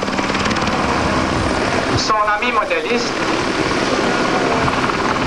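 A model tow plane's engine drones steadily overhead at a 1981 model aircraft meeting in Yverdon, a continuous buzzing hum with a voice speaking over it partway through.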